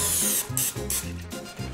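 Several short hissing bursts of aerosol nonstick cooking spray into a 9 by 13 baking pan in quick succession, close and fairly loud, with a low rattling hum beneath.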